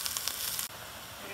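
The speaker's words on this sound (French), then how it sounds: "vous mettez le cognac et vous penchez comme ça pour que les flammes allument" Cognac flambéing in a hot pan gives a steady broadband sizzle and hiss with faint crackles, close and continuous, dropping briefly partway through before carrying on at a slightly lower level.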